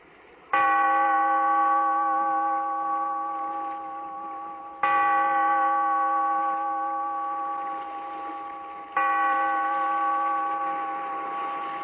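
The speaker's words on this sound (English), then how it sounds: "Bellkeeper, toll the bell, so that all may know we are gathered again in the weird circle" A deep resonant bell tolls three times at slow, even intervals, each strike ringing out with a long humming decay, loud and close with nothing else over it.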